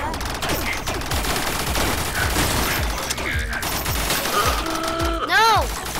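Rapid automatic gunfire in a robot apocalypse video game, a dense continuous clatter under game music and effects, ending in a rising synthetic tone.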